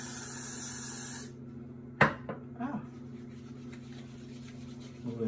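Aerosol hair spray hisses in a steady, close burst for just over a second onto hair being styled into a pompadour, then stops, followed by faint handling clatter.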